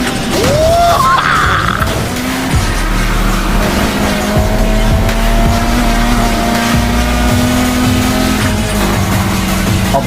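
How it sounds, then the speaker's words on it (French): Car engine drifting in the video game Need for Speed Heat, a loud continuous drone with steady engine tone and tire squeal sweeping through a corner, with game music or effects underneath. "si tu veux drifter, écrase la pédale des gaz au prochain virage."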